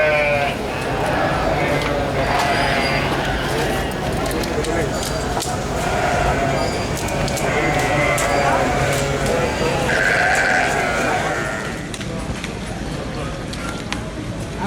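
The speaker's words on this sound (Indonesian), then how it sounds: "inilah kambing yang akan digunakan sebagai hadyu kita" Goats intended as Hajj sacrificial animals bleat repeatedly nearby amid a noisy crowd at Mina, with people talking throughout over the animals' calls.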